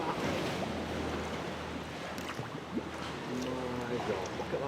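Paddle strokes splash water against the side of a kayak on the sea, steady lapping and sloshing over wind and surf noise, with a brief tonal buzz near the end.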